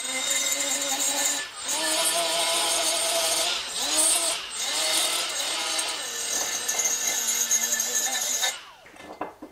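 Roloc abrasive discs on a power tool cleaning gasket surfaces on a 1946 Ransomes crawler, a loud continuous whining grind with a few short pauses where the pitch drops and restarts, ending abruptly.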